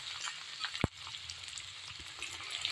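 Peanuts and ginger frying in hot oil for tamarind rice (pulihora), a steady soft sizzle with one sharp clack of a utensil near the start.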